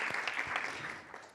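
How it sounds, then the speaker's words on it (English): Audience clapping at an artist talk by Ka'ila Farrell-Smith, a short burst of indoor applause from a modest crowd that thins out over about a second and a half, with a faint voice mixed in. "Yeah, let's clap."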